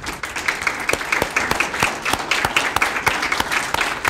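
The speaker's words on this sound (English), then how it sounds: "stand for us so we can give you a round of applause" At a regional poetry recitation final, a crowd claps for the teachers, a loud close round of applause with several sharp, distinct claps standing out rhythmically over the wash of hands.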